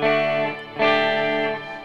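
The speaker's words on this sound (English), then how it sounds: "in the toe down position I've got the shimmer on" An electric guitar runs through a Walrus Audio Descent reverb pedal in the toe-down shimmer setting with an octave effect engaged, producing bright, sustained, layered chords with a swelling attack midway and a lingering wash.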